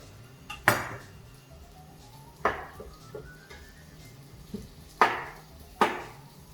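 Chunky chorizo and capsicum pieces go into a pan, making several separate thumps and clatters spread over a few seconds, close and moderately loud, with quieter knocks in between.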